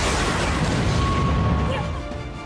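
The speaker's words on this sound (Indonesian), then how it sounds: "tiba-tiba muncul kilatan kuning disertai dengan ledakan" A loud explosion effect in an Attack on Titan retelling, arriving with a sudden yellow flash. A dense, booming rumble fills the whole clip and fades after about two seconds.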